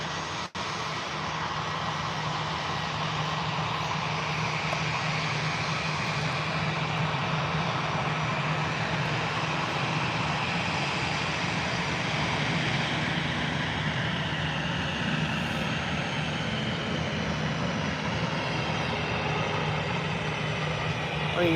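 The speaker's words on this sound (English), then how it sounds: "Not a bad landing by the EasyJet pilot there." An EasyJet airliner landing at Birmingham airport produces a continuous, fairly loud engine roar and rumble that stays steady across the whole stretch, heard from a distance with no speech over it.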